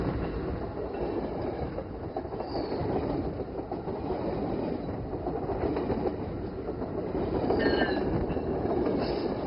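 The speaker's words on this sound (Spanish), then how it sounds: "Son los trenes pasando." Trains rolling past near a shut-down nuclear plant, a steady loud rumble of wheels and rail cars with faint metallic squeals, continuous throughout with no talking.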